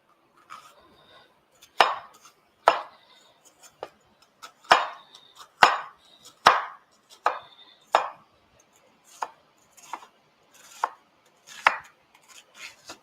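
Onion being chopped on a cutting board while cooking, a dozen or so sharp knife strikes in an uneven rhythm, close and fairly loud, with no talking.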